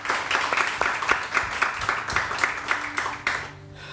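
Applause from a small studio audience welcoming a guest on a morning talk show, a light patter of hand claps lasting a few seconds before fading out.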